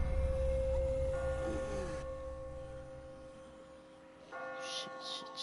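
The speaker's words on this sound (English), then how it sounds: "I just got spooked by those bells" Church bells ringing in The Walking Dead video game: a sustained metallic tone hangs and slowly fades beneath a dull background of other game sounds, then a new burst of sound comes in near the end.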